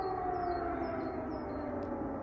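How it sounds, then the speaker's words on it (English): Air raid sirens in wartime Ukraine, a faint distant wail hanging over low background rumble, with thin high tones drifting in and out across a couple of seconds. "Sirens has become the new soundtrack of my life."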